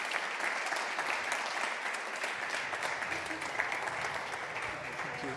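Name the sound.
audience applause welcoming panel moderator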